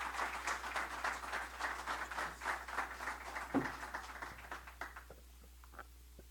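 Audience applause for a minister at a legal culture conference, a sustained patter of clapping from a moderately sized crowd that thins into a few scattered claps and fades near the end.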